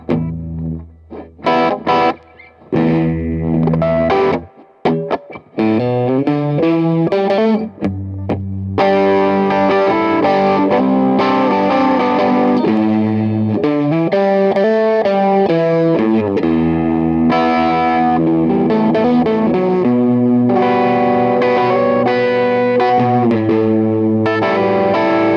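Loud distorted electric guitar, a Fender Player Plus HSS Stratocaster, playing chugging riffs and chords, starting with short stabs and gaps, then continuous driving phrases with heavy effects, no voices.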